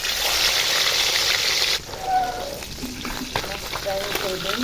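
Koi fish frying in hot oil, a loud continuous sizzle that suddenly drops off, followed by quieter crackling and spattering with faint stirring and handling sounds close by.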